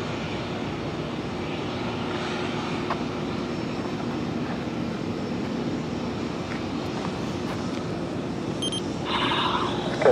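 Jet airliner engines roar steadily at an airport runway, a constant broad rumble that holds throughout and swells slightly near the end, with no talk.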